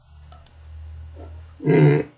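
Two quick, light mouse clicks while working in Excel, followed after a pause by a louder, brief rustling burst.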